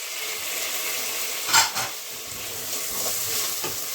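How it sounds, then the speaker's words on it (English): Potatoes and carrots are stirred around a pot for red lentil soup over a steady, moderate sizzle, with one clear scrape of a spoon against the pot midway and softer stirring after. "Just give those a little stir around"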